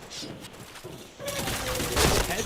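Rapid bursts of gunfire in a shooting video game, a dense crackling volley that grows louder partway through, with game effects behind it.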